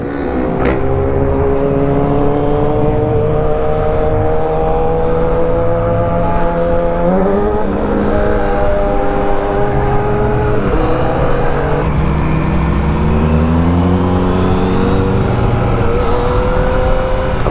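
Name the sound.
motorcycle engine revving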